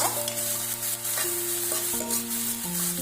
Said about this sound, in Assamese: পিঁয়াজখিনি ভালদৰে লৰাই দিব আৰু চাব যাতে পিঁয়াজখিনি লাগি নাযায়